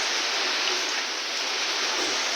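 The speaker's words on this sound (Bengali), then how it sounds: "এখনও বাইরে বৃষ্টি হয়ে চলেছে, বৃষ্টি থামার কোনো লক্ষণই আমি দেখতে পাচ্ছি না।" Rain falling steadily outside a pigeon loft during Cyclone Remal, a dense, even wash of hiss throughout, fairly close and with no voices.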